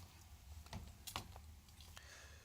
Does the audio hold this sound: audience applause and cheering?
no